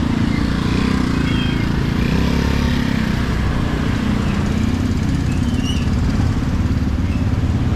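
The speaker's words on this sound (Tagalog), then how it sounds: "Sitwasyon sa palengke ng umaga." Morning street noise at a public market, dominated by a motorcycle engine idling loud and close in a constant rumble, with faint background activity behind it.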